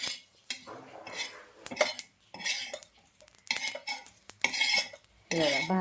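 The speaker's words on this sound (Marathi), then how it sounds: "आता यामध्ये हे जिरे, लवंग आणि दालचिनी हे पण थोडंसं भाजून घ्यायचं आहे" Cumin, cloves and cinnamon dry-roasting in a pan, heard as close, irregular bursts of a spoon scraping and clattering against the metal, with short gaps between strokes.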